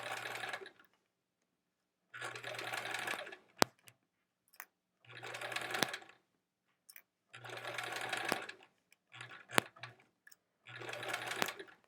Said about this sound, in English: this is sewing row 3 to 4